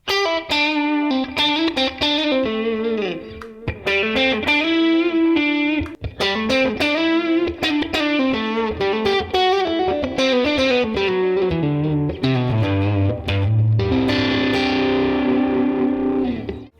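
Electric guitar through a Neural DSP Tone King Imperial MKII breakup lead tone, playing a prog-style lead line with lightly distorted, chorus-tinged notes and chords, loud and continuous, ending on a sustained ringing chord.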